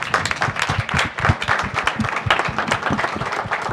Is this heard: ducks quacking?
no